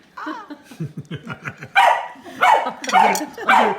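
Dogs bark and yap excitedly in a rapid, overlapping series, loud and near, with the barks growing stronger toward the end.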